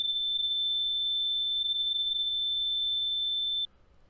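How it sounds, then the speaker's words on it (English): A steady high-pitched electronic beep holds as one unbroken tone for about three and a half seconds and then cuts off abruptly, leaving near silence. It was heard during a paranormal investigation in Ealing, London. "Is that Morse code?"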